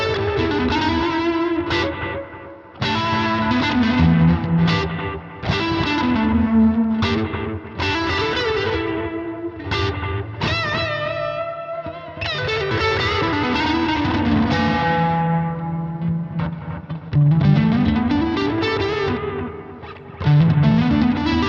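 Distorted electric guitar through a Boss analog delay pedal plays chords and short phrases, each note trailing into repeating echoes that fade gradually.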